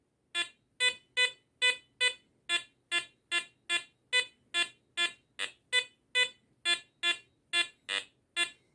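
Garrett Apex metal detector giving a rapid series of about eighteen identical loud beeps in steady rhythm as the coil passes over a large stack of copper coins set on edge.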